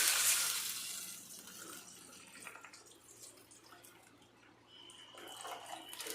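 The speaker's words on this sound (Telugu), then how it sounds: "ఇలా వేగేటప్పుడే వాటర్ వేసుకోవాలి" Water pours into a hot pan of frying vermicelli, a rushing splash at the start that settles into a softer bubbling hiss.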